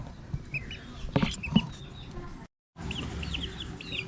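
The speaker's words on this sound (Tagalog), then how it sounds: "At next sisiw naman tayo mga tropa." Young chicks being sexed by hand: high, thin peeping cheeps come in short, scattered calls, close by, over soft handling noises and a low background.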